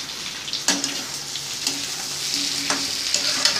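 Mixed vegetables for a karamani puli kuzhambu sauté in a pan, giving a loud, steady sizzle with a few sharp stirring scrapes and clatters.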